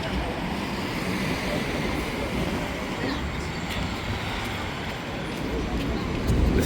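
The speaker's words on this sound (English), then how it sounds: "So I will go on the other side now to take the tram" Tram passing on a Budapest city street, a steady broad rumble of wheels and traffic that swells toward the end, with faint speech in the background.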